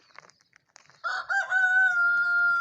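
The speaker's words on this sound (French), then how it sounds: "avec des poules, des poussins." A few soft clucks from chickens near a campsite in Pontenx-les-Forges, Landes, lead into a loud, close rooster crow that holds a long drawn-out final note.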